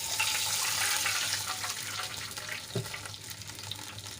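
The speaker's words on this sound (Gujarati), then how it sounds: "આપણે બે કપ પાણી એડ કરીશું" Two cups of water poured into a cooking pan of sautéed semolina and raw potato, a steady hissing splash that fades slightly partway through, close and alone.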